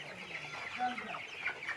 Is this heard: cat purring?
no